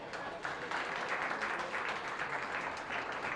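An audience applauds at a county goat show, a steady wash of many hands clapping, fairly faint and distant, lasting a few seconds.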